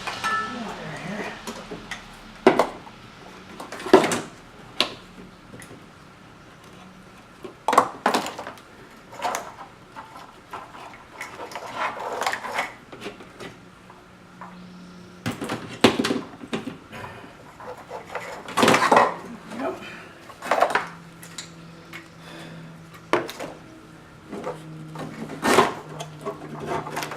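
Wire harness being worked through the engine bay of a Mercedes R129 SL600 V12: scattered rubbing, scraping and clicking of cable and plastic parts at close range, in irregular bursts throughout.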